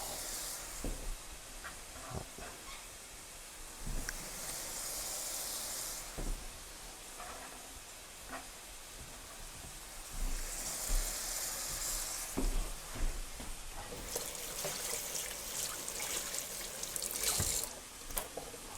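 Shrimp sizzle in a pan with garlic and spinach, a soft steady hiss swelling into louder bursts of frying as the food is stirred, punctuated by occasional utensil taps.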